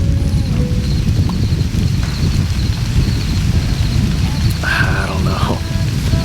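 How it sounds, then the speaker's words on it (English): Rain starting in misty woodland, a steady close patter and hiss with low rumbling like thunder beneath, plus a few brief tonal calls near the end. "Well, the rain has started."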